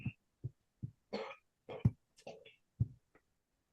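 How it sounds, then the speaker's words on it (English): A person on a policy call clears their throat in a series of short, quiet, separate rasping bursts. "I gotta clear my throat"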